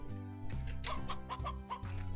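Hens cluck in short, close bursts in the video game Slime Rancher, several quick clucks following one another over a steady low background hum.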